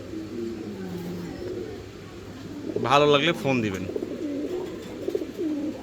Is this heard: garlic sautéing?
no